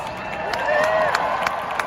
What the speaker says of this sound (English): Shall we give Dr. Joe Chang a big round of applause?